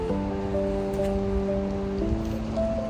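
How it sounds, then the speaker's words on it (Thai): Steady rain falling in an English town, an even wash of patter with a sustained tonal hum layered over it and no voices. "วันนี้ในเมืองฝนตกนะคะ"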